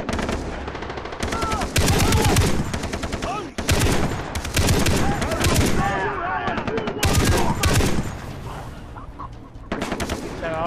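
Heavy automatic gunfire in a Far Cry 3 firefight, loud clattering bursts broken by brief pauses, with chicken-like clucks and voices mixed into the battle noise.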